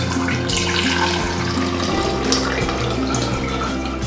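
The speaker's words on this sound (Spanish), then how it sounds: "Vamos a usar un colador y en una jarrita vamos a echar nuestra mezcla." Blended oat water pours from a blender through a strainer into a small jug, giving a steady, close, continuous liquid splashing and trickling that lasts throughout, with no talking.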